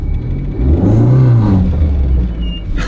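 A front-wheel-drive Abarth car pulls away at full throttle in first gear, its engine rising in a loud close revving sweep that peaks and falls as the gear changes, with no talk.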